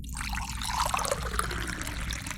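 Water poured steadily from close by in a quiet room, a continuous bright trickling stream that runs for the whole moment without pause, with no voices over it.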